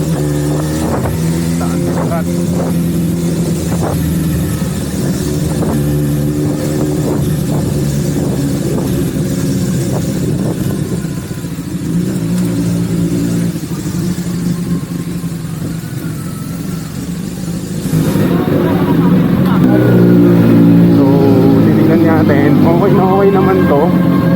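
An old sports motorcycle, a big bike, idles loudly up close with a throbbing, uneven engine note, then revs harder and louder for the last few seconds.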